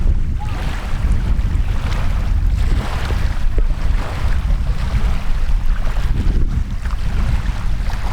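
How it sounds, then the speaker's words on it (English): Ocean waves wash and crash steadily close by for the whole stretch, blended with gusty wind buffeting the microphone, a continuous loud roar from solid ground at the shore. "Just waves crashing"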